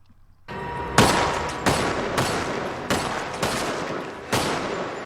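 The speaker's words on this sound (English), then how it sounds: "Shot to death multiple times by Morgan Jones" Gunfire from Morgan Jones shooting Roman in The Walking Dead: a loud, close burst of several gunshots at irregular intervals over a sustained crackling roar, with no talk.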